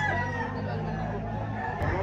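Chickens at a poultry market in Lipa cluck and crow at moderate distance, with faint crowd murmur underneath.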